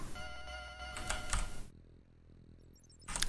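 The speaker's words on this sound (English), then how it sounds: "Such a satisfying sound when you pick them up." Key pickup effect from the 1992 Amiga game Alien Breed Special Edition: bright electronic tones in a short burst, then quieter game sounds and another chime at the end, with no speech.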